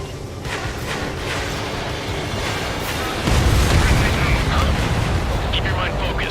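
A destroyed vehicle explodes in the video game Ace Combat 7, a loud, rumbling blast that swells midway and roars on under steady combat noise.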